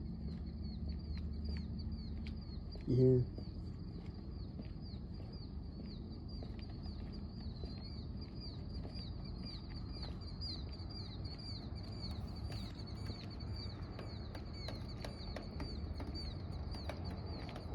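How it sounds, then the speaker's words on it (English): Faint, high bird chirps repeating over a steady outdoor background, with a brief spoken remark early on. "I hear a bird chirping as I start walking."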